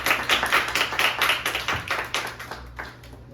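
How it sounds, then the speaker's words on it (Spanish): A live audience claps steadily at a book presentation for an anthology, with a continuous patter of hands lasting several seconds, loud and close, with no talking over it. "un aplauso para Ander Urteaga"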